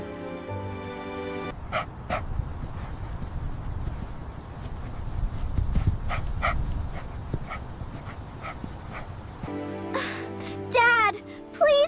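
A big dog barks in short, loud bursts over a busy outdoor scene, with music rising and falling underneath and a brief whimpering or panting near the end.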